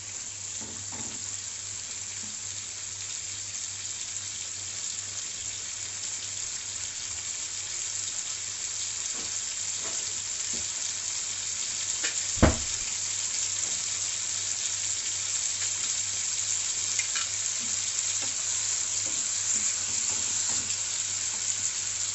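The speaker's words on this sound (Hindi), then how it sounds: "और अब मैं इसमें 1 मुट्ठी काजू डाल दूंगी। इसे अच्छे से भूनने दूंगी।" Handful of cashews frying in a pan for restaurant-style malai kofta, a steady broadband sizzle running throughout at moderate level, with a single sharp clink or knock about midway.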